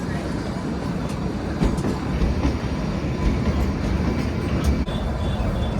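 The Shimla toy train rolls along its rails near Kandaghat station, heard from on board as a steady rumbling clatter of wheels and carriages with faint squeals.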